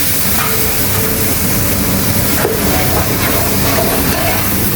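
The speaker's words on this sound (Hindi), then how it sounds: "इसमें अब ऐड करेंगे हम अदरक लहसुन का पेस्ट 3 टेबल स्पून अदरक लहसुन का पेस्ट।" Ginger garlic paste, three tablespoons, sizzles in a pan with lightly browned onions while making Bombay chicken biryani, giving a loud, steady hiss throughout.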